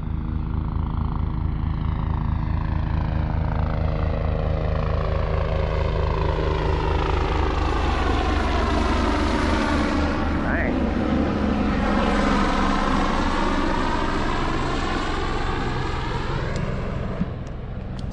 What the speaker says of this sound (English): kind of a crazy looking helicopter